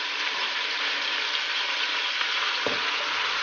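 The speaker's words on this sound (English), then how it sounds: "let's cook the onion together with tomatoes" Onion and tomatoes fry for pork sinigang, giving a dense, loud, steady sizzle close up with a brief low thump near the end.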